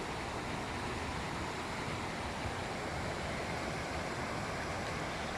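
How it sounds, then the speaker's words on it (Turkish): Steady rushing water of a stream cascading down like a waterfall at Balçova Hacı Ahmet Deresi, a dense continuous roar close by with no voices. "Ne güzel şelale gibi aşağıya iniyor."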